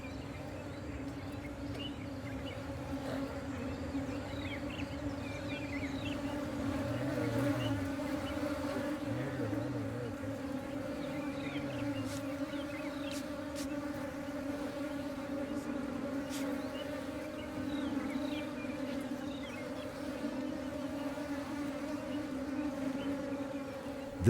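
Bees swarm at a crowded wild honey nest during a traditional N'Dorobo honey harvest, a steady close buzzing drone that holds throughout, with faint voices and a few clicks underneath.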